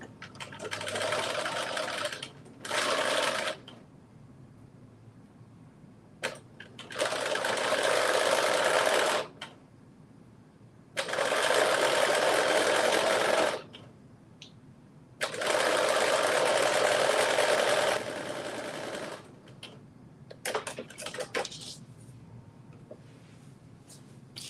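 A home sewing machine stitches darts in non-stretch fabric, whirring in several bursts of a few seconds each, separated by quiet pauses and shorter stop-start runs near the end.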